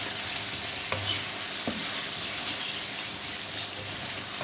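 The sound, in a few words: frying garam masala and chaat masala in oil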